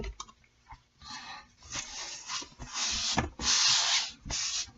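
Hands rub conditioner through natural hair in close, soft swishing and scrubbing strokes that come in uneven bursts, growing louder and denser toward the end with no talking.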